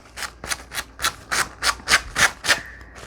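Rhythmic sanding strokes along the edge of paper cards rasp back and forth about ten times, close up and evenly paced, with no talking.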